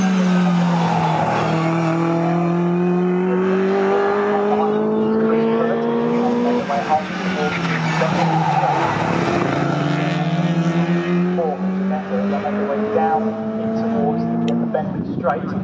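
Classic race cars, a yellow Ginetta G12 and a Jaguar Mark 1 saloon, race at Snetterton, their engines droning loudly and continuously with rising and falling pitch as they pass, while a commentator talks over them.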